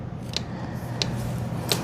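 Scissors poke holes for planting onion seeds in a garden seed-starting tray, giving three sharp, evenly spaced clicks close by against a steady low background hum.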